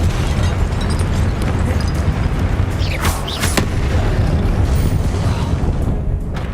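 Confringo spell explosion in the Hogwarts Legacy video game, a loud burst with a bright crackling flare in the middle, set against a constant heavy rumbling background.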